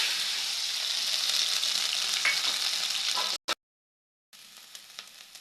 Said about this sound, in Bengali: বেটে রাখা খারকোল পাতাটা দিয়ে দিচ্ছি এখন।